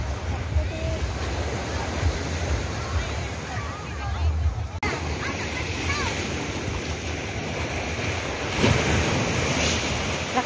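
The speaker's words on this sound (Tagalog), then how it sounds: "Lakas ng alon oh." Strong waves roll and crash onto Cheung Sha Beach on Lantau, with wind rushing across the microphone and faint voices in the background.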